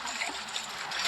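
Gentle game-style water trickling and splashing in a Roblox world, a short continuous wash of watery noise with no talk over it.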